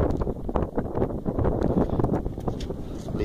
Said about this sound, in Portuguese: Só vento.